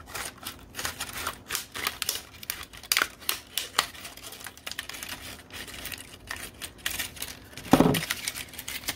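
Scissors snip through material at a craft table, a string of sharp, close clicks and cuts in uneven bursts, with a louder rustle near the end.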